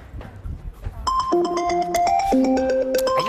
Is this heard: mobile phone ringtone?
yes